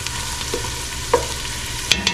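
Onions sizzle and fry in a pan while being stirred, with a steady hiss and occasional scrapes and clinks of the utensil against the pan.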